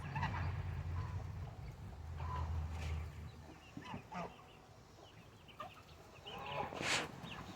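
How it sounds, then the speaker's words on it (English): Chickens cluck and squawk in scattered bursts over a low rumbling background in a Silent Hill 2 Remake scene, with a turkey among them, the calls fairly faint and intermittent. "There's so many chickens."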